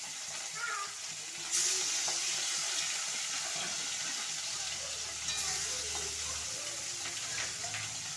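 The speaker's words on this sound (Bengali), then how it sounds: "মাছগুলো ভাজা হতে থাকো" Bata fish fry in hot oil in a home kitchen, making a steady, soft hiss and crackle that runs the whole time, with a few brief louder spatters.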